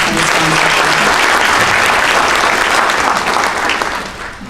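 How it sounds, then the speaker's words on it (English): Loud, full applause from an awards-night audience for the event sponsors, a thick wash of clapping that holds steady and then tapers off near the end. "Let's give them another round of applause."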